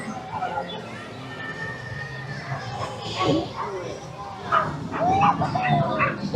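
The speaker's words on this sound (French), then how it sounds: "On entend les chiens là." Dogs bark and yip intermittently in the background, mixed with steady chatter from people nearby and a busy crowd ambience.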